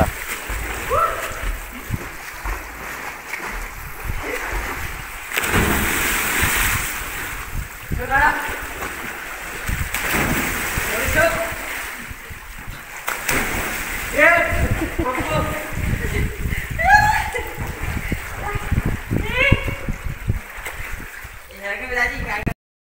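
Waves splash and surge in irregular bursts against a steady wash of water and wind, with people talking and shouting over it.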